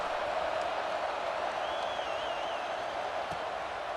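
Stadium crowd murmur in EA Sports College Football 26: a steady, subdued roar of many voices filling the air evenly, with faint scattered cheers and claps and no distinct peaks.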